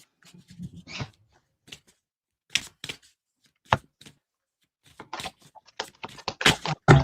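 Tarot cards are shuffled by hand, giving quiet, irregular bursts of papery slaps and riffling clicks with short pauses between them.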